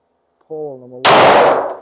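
A single loud pistol shot firing 115 grain Fiocchi ammunition at a target cracks close by and rings out briefly, preceded by a short voice.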